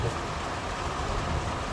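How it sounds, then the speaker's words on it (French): Steady, dense rainfall from a moderate thunderstorm near Grenoble in the Alps hisses without a break, a broad wash of noise with a low rumble underneath and no voices. "Ah, ça pleut bien, hein."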